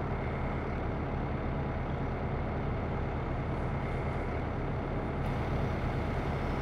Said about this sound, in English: By the sounds of it, we've got the train rolling on by.